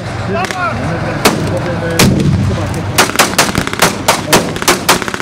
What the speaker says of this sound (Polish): Kolejna eksplozja.